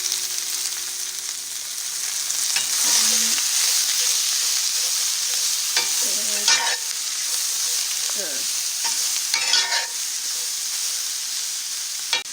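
Onions and peppers frying in oil for a steak stir fry, a constant close sizzle with occasional spatula scrapes and stirring clinks over the hiss, no talking.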